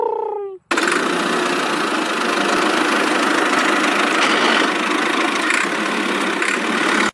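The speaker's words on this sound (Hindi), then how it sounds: "ये तो ट्रैक्टर है, इससे क्या होता है, इससे खेत जोता जाता है" A tractor engine in a cartoon runs steadily and loud for several seconds with a rough continuous rumble, after a brief vocal sound at the start.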